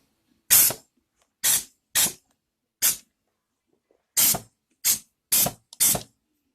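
Spray gun firing in eight short, loud hissing bursts of even length, separated by brief pauses, close by, reaching behind bolts on a 1974 vehicle.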